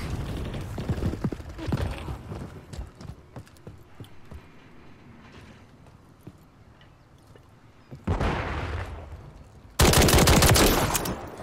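Full-auto gunfire in Call of Duty: Modern Warfare III: scattered shots and clattering over the first seconds, then two loud sustained automatic bursts near the end.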